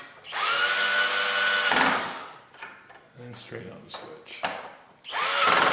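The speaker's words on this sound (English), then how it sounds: "and we'll just take our drill." A power drill drives screws into a three-way light switch during home wiring: a whirring burst, then quieter handling sounds while a person talks, then a second whir at the end.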